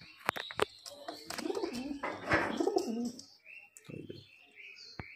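Murshidabadi Giribaz pigeons coo in low, soft bursts, mixed with chirps and sharp clicks nearby, while a person talks over them.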